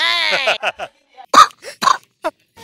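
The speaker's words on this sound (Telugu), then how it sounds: "ఏంటి దేవదాల్లా దగ్గుతున్నావు?" A brief voice, then a few short, harsh coughs in separate bursts with pauses between them.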